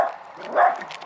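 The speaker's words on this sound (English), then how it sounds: "Your dog's barking." A single dog bark rings out at a moderate distance, brief and somewhat muffled, with faint background noise around it.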